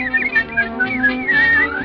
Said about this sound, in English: Just whistle while you work.